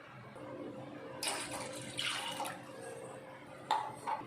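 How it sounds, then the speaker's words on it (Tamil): Water pours briefly into a cooking pot in a few short splashes and gurgles, fairly quiet with pauses between pours. "இதில் நான் 2 டம்ளர் அளவுக்கு தண்ணி ஆட் பண்ணிக்கிறேன்"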